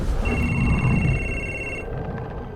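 A telephone rings in Beyond Two Souls, a steady electronic tone that holds for under two seconds over a dense low background rumble, moderately loud.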